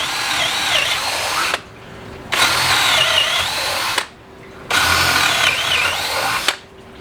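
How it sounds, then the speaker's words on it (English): A power drill bores through lumber for a motorcycle center lift, running in three loud, sustained bursts separated by short pauses, close and alone. "I gotta drill this last one here because my drill bit wasn't long enough"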